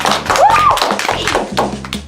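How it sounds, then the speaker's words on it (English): Students applaud in a chess lesson with light, scattered clapping over a quiet background hum. A synthetic chime sweeps up briefly near the start. "Give him a round of applause"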